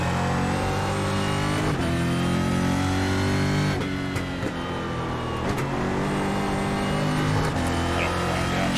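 A stock car engine in iRacing, racing at Okayama International Circuit, drones loudly and steadily, with its revs jumping and shifting pitch on a downshift, the tone rising and falling throughout.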